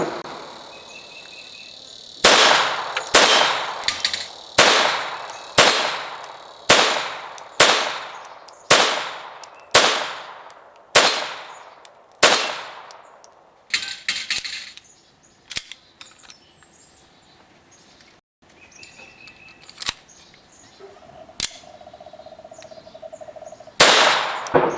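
Sig Mosquito .22 Long Rifle pistol fires at steel popper targets 25 yards away, about a dozen sharp cracks in steady rhythm, each with a fading ring, then a pause and a few faint clicks before one last shot.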